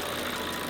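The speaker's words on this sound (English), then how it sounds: "Few cranks where it sounds like the engine's gone." Range Rover engine that won't start, cranking under the starter in a steady, even churn without catching, close and moderately loud for a brief moment.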